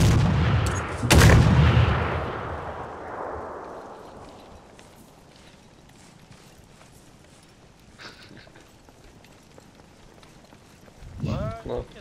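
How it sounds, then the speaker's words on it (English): Explosive satchel charges detonating in the military video game Arma 3: a huge close blast with a long rumbling decay, then a quieter stretch and a smaller second explosion near the end, with voices talking faintly. "That was a satchel and two more explosive charges."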